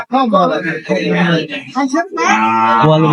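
Sahiwal cattle at a livestock market moo loudly and close by, with long drawn-out calls that fill most of the moment.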